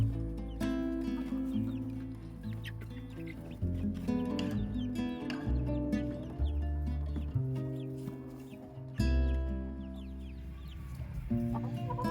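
Several chickens cluck and murmur continuously close by, their low burbling calls overlapping with occasional sharper squawks.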